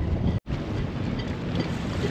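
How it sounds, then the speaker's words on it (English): Strong outdoor wind roars steadily and loudly across the microphone, a dense buffeting rush broken only by one split-second dropout, with no speech over it. "Wow, there is a lot of wind today."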